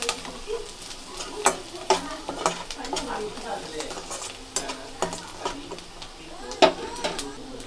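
Green gram stirred with turmeric and chili powder in a pan: repeated close scraping and clinking of a spoon against metal over a low sizzle, in an irregular rhythm.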